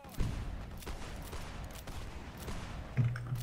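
Musket volley fire in the Whigs and Tories line battle video game: scattered gunshots crackle through a dense, rumbling battle din, with a louder burst near the start and another near the end.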